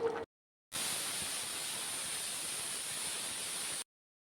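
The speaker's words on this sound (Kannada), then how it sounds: "ಇವಾಗ ನಾನು ಕುಕ್ಕರ್ ಮುಚ್ಚಳ ಮುಚ್ಚಿಬಿಟ್ಟು 2 ವಿಷಲ್ ಕೂಗಿಸ್ಕೊತೀನಿ" A pressure cooker on the stove cooking veg pulao releases a steady, loud hiss of steam for about three seconds, with brief quiet gaps before and after.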